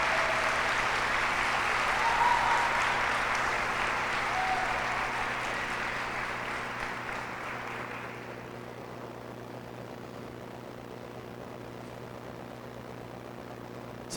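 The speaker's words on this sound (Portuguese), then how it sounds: "Dê uma salva de palmas para esses atores aqui que são demais." A church congregation applauds actors during an evening service: thick, continuous clapping for several seconds that thins and fades out about halfway, leaving a steady low mechanical hum underneath.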